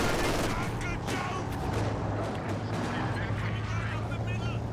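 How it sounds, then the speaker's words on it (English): Gunfire and explosive bursts from a tank's main gun in Company of Heroes 2, a steady loud wash of battle noise with sharp reports, overlaid by a speaking voice throughout. "Good chance of doing some AoE damage with the main gun as well."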